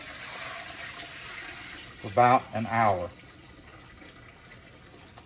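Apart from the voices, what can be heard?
water being poured into a stew pot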